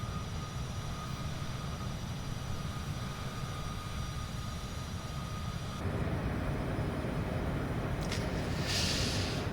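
Airplane engine climbing out after takeoff from Venice airport, a steady loud cabin drone with a broad low rumble that shifts and grows slightly rougher partway through, with a faint brief whoosh near the end.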